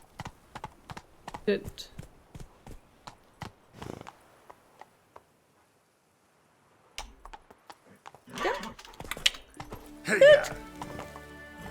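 Roach, the horse in The Witcher 3, clip-clops in quick hoofbeats that stop partway, then resume amid game sounds while someone talks.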